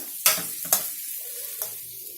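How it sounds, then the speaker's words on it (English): Diced potatoes and vegetables stirred in a sizzling bagar tempering in a pan, with three sharp scraping stirs over a soft, close sizzle. "We give all of this a good mix so that everything gets coated with this bagar."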